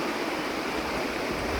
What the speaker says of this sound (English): you've got that creek over there, which runs down from Walhalla, and obviously converges on the Thompson